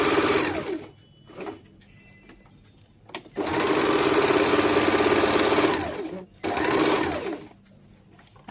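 A sewing machine stitches fabric for an umbrella baby frock in two long, loud runs of rapid whirring after a few short bursts, with brief pauses between them.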